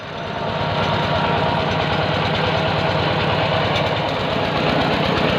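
A small vehicle engine running steadily with a rough, pulsing knock, loud and close, continuing without a break as two people ride.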